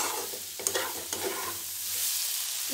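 Raw papaya bhujia is stirred in a pan, a close sizzle with a couple of scraping knocks from the spoon, then a softer, steady frying hiss, no voices.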